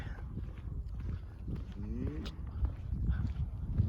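A short, low moo from a herd of calves and adult cattle of mixed breeds rises briefly amid a busy outdoor rumble of livestock shuffling and background noise.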